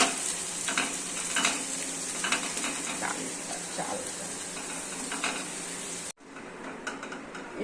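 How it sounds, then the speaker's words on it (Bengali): Washed mung dal frying in a pan gives a steady close sizzle, with repeated scraping stirs of a spoon against the metal, briefly interrupted by a cut before the sizzling resumes. "মুগের ডালটা ভেজে নিলাম।"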